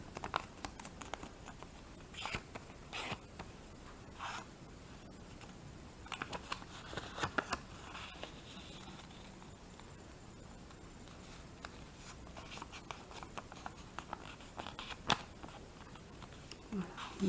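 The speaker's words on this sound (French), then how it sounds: "Donc on va marquer les différents plis" Christmas gingerbread-print wrapping paper is folded and its creases pressed down, giving faint, scattered crinkles and soft rustling taps in short bursts close by.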